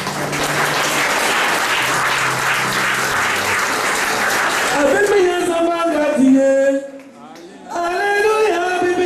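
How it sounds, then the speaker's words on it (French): Church congregation applauding for one another during a French-language worship service, dense steady clapping for about five seconds before singing voices rise over it, with a short lull near the end. "Acclame pour ton voisin."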